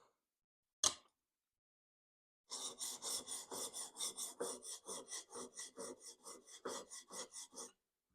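A plane iron from a Taylor Toolworks No. 6 fore plane is rubbed on an oiled whetstone after a single sharp tap, about twenty rhythmic back-and-forth scraping strokes, close and fairly quiet, with no voices.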